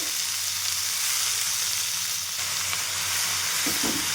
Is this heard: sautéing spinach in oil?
yes